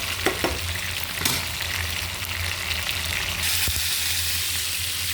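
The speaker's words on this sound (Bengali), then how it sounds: "বেশি একটা কড়া ভাজা করা যাবে না, মাছগুলো আমি ভুনা করবো। একটু হালকাভাবে ভেজে নিতে হবে।" Pieces of snakehead fish lightly fry in hot oil for a potato bhuna, a steady close sizzle with a few brief stirring scrapes and clinks.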